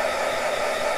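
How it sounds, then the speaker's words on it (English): A heat gun blows steadily over a gel printing plate in a craft session, a loud continuous whooshing hum with no breaks, close to the microphone and without talk. "you don't want your heat gun up high, close to it"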